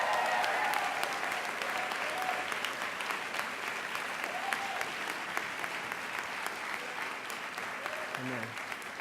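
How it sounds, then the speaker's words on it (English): Commencement audience applauding steadily throughout, a dense wash of many hands clapping at an even level, with a few voices faintly audible underneath. "So let's give another round of applause."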